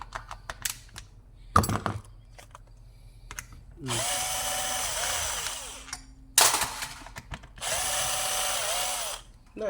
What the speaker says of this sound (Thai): เพราะว่าสว่านผมมัน มันไม่ค่อยแรงเท่าไหร่เนาะ